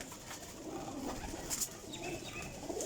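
Teddy golden flying pigeons give faint, scattered coos against a background hiss, with a few brief higher chirps.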